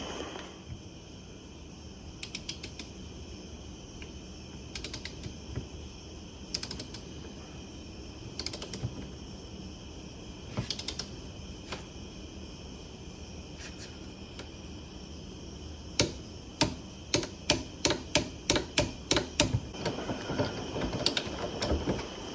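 Torque wrench tightening a fuel fitting to 22 foot-pounds on a 7.3 Ford Excursion's fuel sump, sparse ratchet clicks followed by a fast run of sharp clicks near the end, close and fairly quiet over a faint steady hum.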